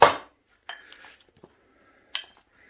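Potatoes cooking in a Ninja Foodi are stirred, giving a few close clinks and scrapes of utensil against the pot, with a sharp clatter at the start and another near the end amid quiet gaps.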